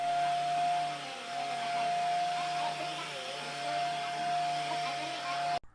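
A vacuum cleaner runs steadily with a loud whine and a constant drone, sucking up broken glass from a smashed glass table off a bedroom floor, then cuts off abruptly near the end.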